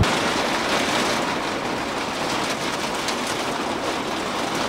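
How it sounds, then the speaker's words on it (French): Heavy rain from a storm drums steadily on a parked van, a dense unbroken hiss that holds at an even level throughout with no voices. "Encore, on a essuyé une tempête."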